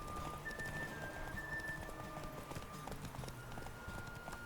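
A horse gallops in the video game The Witcher 3, with rapid rhythmic hoofbeats thudding steadily beneath faint tonal music, moderately quiet and continuous throughout.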